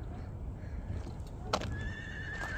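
A horse neighs once in a shrill, drawn-out whinny after a brief rustle, close by, over low background rumble and faint movement.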